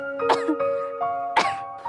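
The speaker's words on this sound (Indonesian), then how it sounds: "Batuk-batuk." A person gives a few short, harsh coughs in two separate bursts, close and fairly loud, while a sustained musical tone plays beneath.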